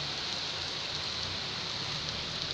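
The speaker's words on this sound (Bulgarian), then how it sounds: "Много силно започна да вали." Heavy rain pouring down outdoors, a dense, steady hiss that stays loud and unbroken throughout.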